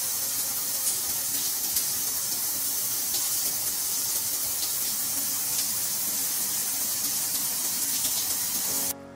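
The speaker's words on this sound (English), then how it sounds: "A pretty powerful shower as far as cruise ships go." Powerful shower in a balcony cabin aboard the Sun Princess cruise ship, a steady loud hissing spray of water running continuously, close by and without voices, cutting off abruptly at the end.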